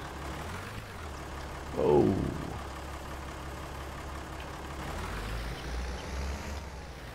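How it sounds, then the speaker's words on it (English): A tractor engine in Farming Simulator 19 starts and idles, giving a low steady rumble throughout with a brief louder rise early on and a mild swell later; a voice briefly exclaims. "After I start up the engine."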